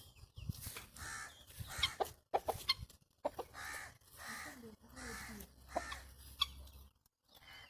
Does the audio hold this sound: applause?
no